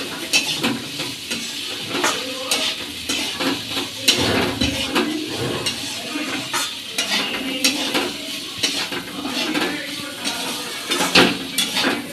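Bamboo shoot curry being sautéed in a pan, with a steady sizzle and frequent scraping and clinking of a spatula against metal throughout, close and fairly loud with no voices.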